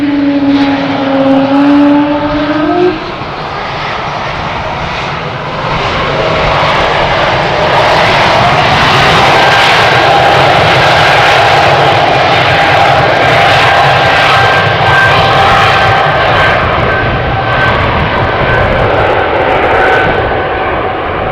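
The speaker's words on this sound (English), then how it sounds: "These A220s are really quiet. You could probably hear it as well." Airbus A220 airliner engines at Amsterdam Schiphol Airport during a runway 36L departure: a loud, continuous close roar with a steady high whine riding on top, rising slightly and holding without a break.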